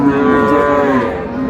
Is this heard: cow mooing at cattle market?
yes